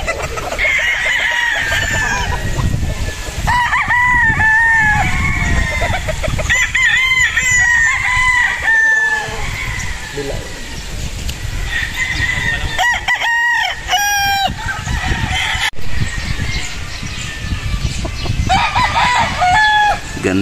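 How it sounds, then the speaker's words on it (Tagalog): Sweater gamefowl broodcocks on a game farm crowing repeatedly, several roosters overlapping near and farther off, with clucking and a steady outdoor background throughout. "Yan ang kanilang mga personal broodcock ng EEJ."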